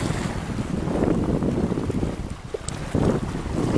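Strong wind buffeting the microphone on the open deck of a RoRo ferry crossing from Laguna to Mindoro, a loud continuous roar mixed with engine and water wash, no talk.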